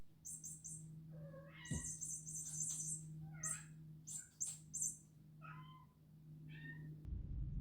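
A cat meows softly in a quiet room, several short, faint calls spread out over a low steady hum.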